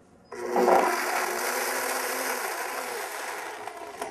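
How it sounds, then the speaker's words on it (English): A blender switches on with a sudden whir and keeps running steadily, a dense buzzing roar that stays loud for several seconds. "I'm going to make a little noise with the blender"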